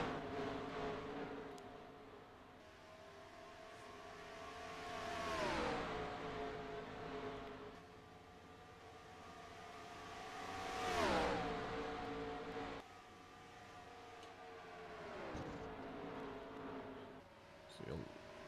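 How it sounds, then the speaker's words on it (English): Race cars coasting and saving fuel on a Texas oval track during the OSCC PJ-1 100, engines swelling and fading as cars sweep past one after another in repeated waves, with a commentator talking over the passes. "Bunch of cars here coasting with all the coasting and the fuel saving that's going on."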